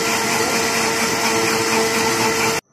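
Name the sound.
electric grinder blending biscuits and milk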